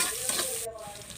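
Onions and chilies sizzle in a pan on the stove, a close, moderate frying hiss with some stirring scrapes that drops off partway through.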